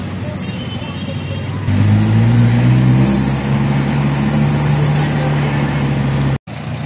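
Town traffic in Santa Maria, Bulacan, with cars and trucks idling and moving nearby, a steady engine rumble that swells into a louder vehicle drone, heard close with wind and road noise and a voice talking over it.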